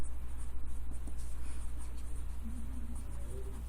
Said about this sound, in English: I'm going to write that down for this one.